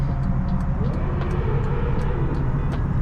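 A BMW 3 Series E46 wagon drives past during a modified European car cruise, a steady broad engine and road roar up close, with a few sharp transient knocks over the continuous rumble.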